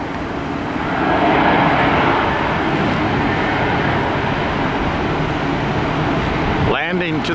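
An Airbus A321 takes off at Tampa airport, a loud, sustained engine roar holding steady from nearby, with a voice breaking in briefly at the very end.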